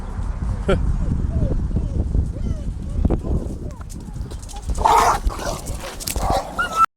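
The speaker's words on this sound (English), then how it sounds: "Oh, there's a dog." A dog barks and whimpers during an early morning training walk along a small road, with short yips and whines mixed with footsteps and other outdoor noise, while people talk nearby.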